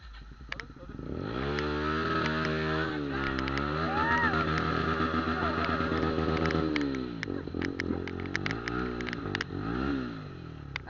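A motorcycle from Hubli runs loud and close, its engine droning with a rich, steady tone that rises and falls as it revs over about eleven seconds, with brief clatter along the way.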